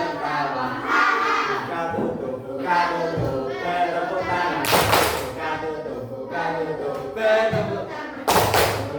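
Children clap their hands during a primary-school classroom song, with sharp bursts of clapping standing out between rhythmic sung phrases and thumps.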